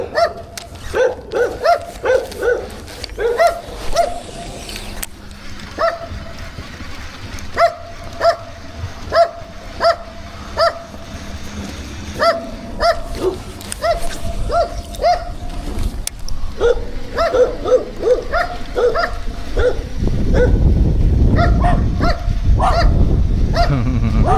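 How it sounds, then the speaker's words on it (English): A big dog barks repeatedly in short bursts at moderate distance outdoors near water in fall, with a low rumble building toward the end. "I hear you, big dog."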